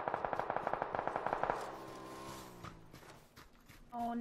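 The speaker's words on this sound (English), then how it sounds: "Oh, they were shooting at the bike." Automatic gunfire in the PUBG video game, a rapid burst of evenly spaced shots followed by fading ringing tones and a few scattered later hits, fairly quiet and distant.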